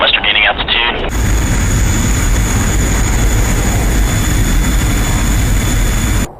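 A jet aircraft climbing in DCS World gives a steady loud engine roar with a thin high whine that holds throughout and cuts off at the end, after a brief garbled radio-like voice at the start.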